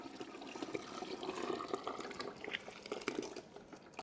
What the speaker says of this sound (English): I'm going to pour my soap in here